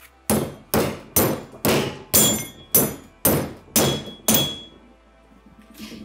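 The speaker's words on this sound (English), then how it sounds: "And now we'll be inserting the fixing simply using the" A hammer drives a fischer FAZ II bolt anchor into a drilled hole in concrete, giving about nine loud, evenly spaced metallic thunks that then stop, leaving quiet.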